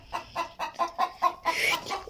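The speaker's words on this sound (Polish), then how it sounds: "Przepraszam za kurę." A chicken clucks in a quick series of short, close calls, about eight in a row, ending in a longer, louder squawk.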